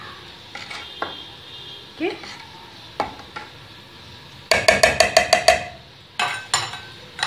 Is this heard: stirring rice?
yes